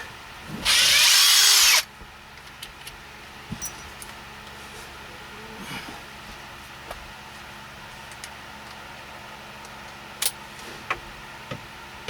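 A power drill whirs in one loud burst of about a second while removing screws from a RAM truck dash panel, followed by faint clicks and small handling taps at close range.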